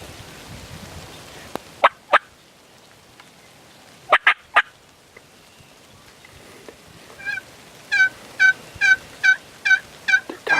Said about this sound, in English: There's 4 of them. 4 gobblers.